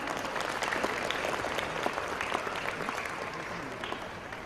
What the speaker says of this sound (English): May we have the loudest round of applause for this great